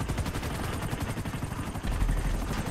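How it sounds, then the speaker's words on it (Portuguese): Helicopter in Grand Theft Auto V Online during a police chase, a loud rapid rotor chop pulsing steadily throughout, close and dominant with no voices. "Calma que tem um helicóptero aqui."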